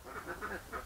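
Garden ducks give a short flurry of nasal quacks, three or four calls in under a second, close and quiet, without any voices over them.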